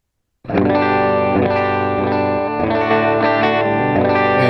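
An electric guitar plays through a Helix processor with a boost effect switched on and off, giving a loud, distorted, sustained chord tone with chorus and a slight swell in level partway through.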